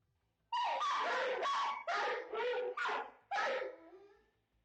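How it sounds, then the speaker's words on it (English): Dogs bark loudly and close in several rapid, overlapping bursts with short gaps, then trail off into a brief whine before quiet. "the dogs start the clip barking pretty loudly at something"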